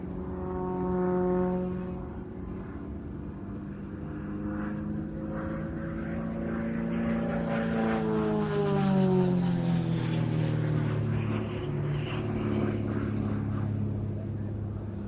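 A propeller aircraft with fixed undercarriage flies aerobatics at an air show, its engine drone rising and falling in pitch as it climbs, rolls and spins, loud and steady, with faint crowd noise.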